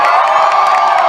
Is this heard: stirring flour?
no